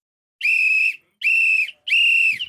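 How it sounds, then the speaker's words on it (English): During a Kansas City Chiefs vs Washington Commanders football game, a referee's whistle gives three loud, shrill blasts, each about half a second long and evenly spaced, close and clear with no talking. "Referee's literally running with the whistle in his mouth."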